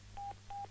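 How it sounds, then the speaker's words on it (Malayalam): Two short telephone keypad tones beep in quick succession, clean and moderately quiet over a low steady hum, as phone buttons are pressed repeatedly. "അവര് മേളിലിരുന്ന് നമ്മുടെ സംസാരം ഡിസ്റ്റർബ് ചെയ്യാൻ വേണ്ടി ഫോണിന്റെ ബട്ടണിലിട്ട് കുത്തിക്കൊണ്ടിരി"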